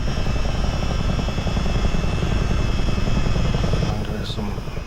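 A US Army Chinook helicopter in Microsoft Flight Simulator VR, its heavy rotor drone and engine roar steady and loud throughout, with a brief faint tone near the end.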